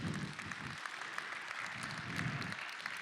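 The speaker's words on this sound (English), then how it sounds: "A round of applause for these friends." Church congregation applauding for guests called forward during a service, soft continuous clapping heard at a distance with a low room rumble underneath.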